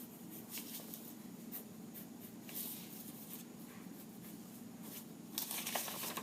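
Pencil drawing a character's forehead on paper, soft close scratchy strokes in short irregular bursts, quiet, with a louder flurry of scribbling near the end.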